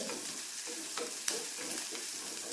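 Shallots and curry leaves sizzle steadily in hot oil over a high flame, a continuous crackling hiss with a few sharper pops, with no talking.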